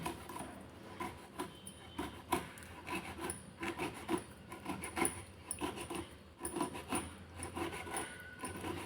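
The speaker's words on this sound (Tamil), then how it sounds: "இப்போ அடுத்த காய் நம்ம கட் பண்ணிக்கலாம்" Knife cutting citron fruit for pickle, heard as repeated close scraping and rubbing strokes with irregular knocks against a board, steady throughout and without talk.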